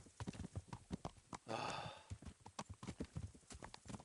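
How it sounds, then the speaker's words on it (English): Horse hooves clip-clop along a road in the medieval video game Kingdom Come, several horses trotting in an uneven rhythm, fairly close and quiet, with a brief rushing burst midway. "there's like 6 horses in the road"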